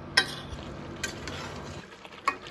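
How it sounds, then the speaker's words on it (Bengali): Salted chicken is stir-fried in oil in a pan, with a soft sizzle under sharp spatula scrapes and clacks against the metal at irregular intervals, close and fairly quiet. "নুন দিয়ে চিকেনটাকে ভালো করে এবারে তেল ছাড়া"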